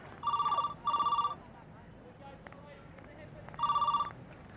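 A household telephone rings in a Marathi TV serial scene, three bright electronic ring bursts with short gaps between them, fairly close, with faint room noise and some background voices between the rings.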